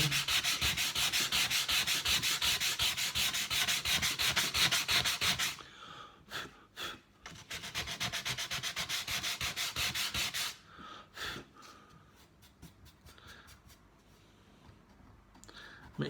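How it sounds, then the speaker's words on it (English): Hand sanding on a wooden shelf repair, with bursts of rapid scratchy back-and-forth strokes that stop and start, then a few short rubs and quiet gaps. "Let me give it a bit of a sanding."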